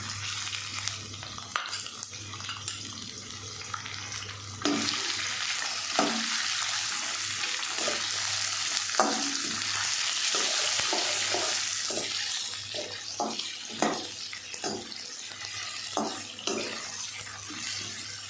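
Chicken stir-frying over high heat for restaurant-style chicken egg fried rice, a steady close sizzle with repeated sharp scraping and stirring knocks throughout.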